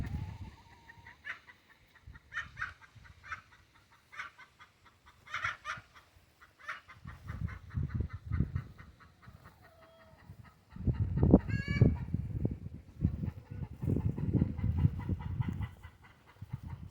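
Laying hens cluck and cackle on a homestead in repeated bursts, some faint and farther off, rising into louder, denser clucking in the second half, with occasional honk-like calls mixed in.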